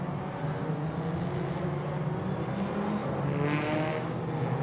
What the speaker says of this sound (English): It's all about warming up those tires, warming up those engines